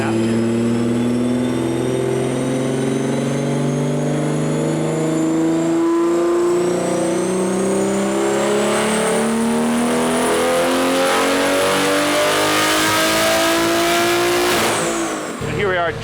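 A tuned 1100+ whp BMW G80 M3 on a JB4 Pro map makes a loud dyno pull at high boost, engine pitch climbing steadily through the revs for about fifteen seconds before cutting off.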